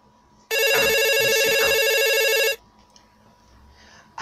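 A telephone rings loudly and continuously for about two seconds, then cuts off, leaving a quiet room with faint background noise.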